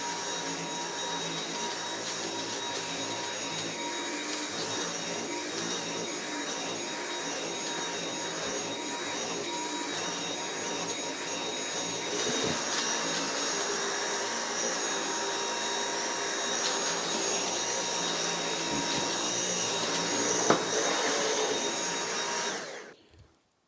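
A Dyson V8 Animal cordless vacuum cleaner on normal suction cleaning a rug, giving a loud, steady high-pitched whine throughout that shifts slightly midway and then cuts off abruptly at the end.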